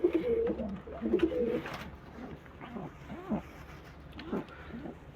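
Soft, low domestic pigeon coos repeating a few times, fairly faint against a quiet background with faint rustling.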